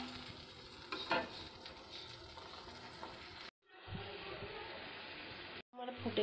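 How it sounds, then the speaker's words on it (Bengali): A prawn curry being stirred in a pan just after salt and turmeric go in, with a steady sizzle and scraping stir strokes that cut out briefly twice. Background voice faintly present. "আর দেব একটু হলুদ গুঁড়ো দিয়ে একটু নেড়ে দিলাম"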